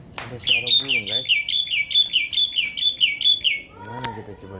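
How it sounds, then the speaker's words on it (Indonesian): A songbird calls close by in a rapid string of bright, repeated chirping notes lasting several seconds, with a brief voice heard near the start and again near the end in an outdoor afternoon setting. "Ada suara burung, guys."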